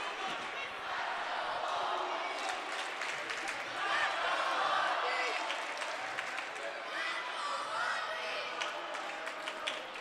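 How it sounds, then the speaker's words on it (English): Hockey arena crowd at a varsity championship final in Long Beach, a steady roar of cheering and clapping that swells midway, with a play-by-play announcer talking over it. "The Long Beach crowd has been absolutely chaotic."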